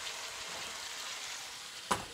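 Garlic chicken, about half cooked, sizzles and fries steadily in a pan on the stove, a continuous close hiss with a brief louder clatter of stirring near the end.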